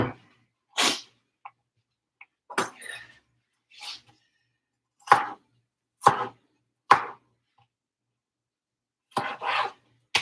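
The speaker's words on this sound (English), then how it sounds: "we're going with big old fat pieces of white onion. That's too big. And I'm going to cut this up." A knife chops a white onion into big pieces, giving about ten distinct, close, sharp thuds at an uneven pace with quiet pauses between them.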